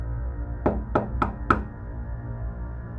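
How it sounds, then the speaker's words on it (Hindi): Four firm knocks on a wooden door, evenly spaced and close by, followed by quiet. "इसलिए मैंने दरवाजे पर नॉक किया।"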